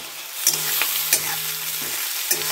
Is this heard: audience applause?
no